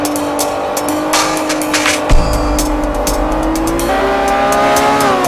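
A Lamborghini Aventador engine in the racing game Forza 4, a steady high-pitched engine tone that revs and shifts gear, with a low thump partway through and tire noise, loud and continuous.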